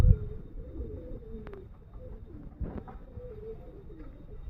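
Pigeons cooing close by, with soft, low, rounded coos repeating over a quiet background.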